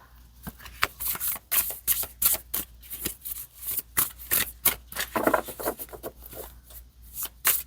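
Tarot cards are shuffled in quick, repeated riffling bursts, a crisp papery flutter up close with brief pauses between rounds.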